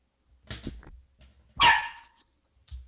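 A dog in a room makes a few soft, muffled woofs, then gives one sharp, loud bark, followed by a brief low huff.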